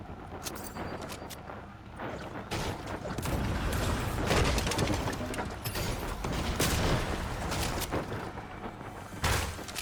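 Gunfire fills an online shooter game match: dense, rapid bursts of shots and mechanical clatter layered over a constant noisy din, moderately loud and continuous without clear speech.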